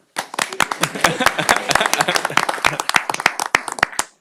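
A round of applause at a city council meeting, with clapping from a small group of hands that is brisk and fairly close, starting at once and tapering off after about four seconds.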